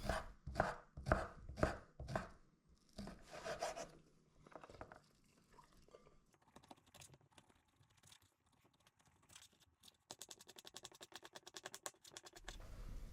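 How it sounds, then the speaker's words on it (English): A knife chops pepperoni pizza bite ingredients into small cubes on a board, starting with several quick firm strikes, then lighter, quieter cutting and rustling. "slice those slivers to make nice little cubes"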